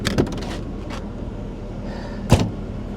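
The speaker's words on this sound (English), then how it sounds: "We can close the trunk" The trunk of a used car at an auction closes with a sharp thud, after a couple of quicker clunks and rattles earlier, close by and otherwise quiet.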